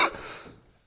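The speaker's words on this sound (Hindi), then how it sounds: "माफी चाहूंगा, विदेश से थोड़ी खांसी लेकर आया हूं।" A single short cough from a man on a Hindi political discussion show, one sharp burst that quickly fades into a soft breathy tail, close and alone.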